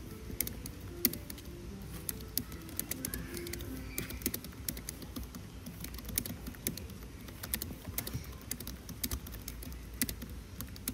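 Typing on an oversized computer keyboard, big enough to fit a computer mouse inside, makes steady quiet clicky key taps in an irregular rhythm, close and alone with no talking.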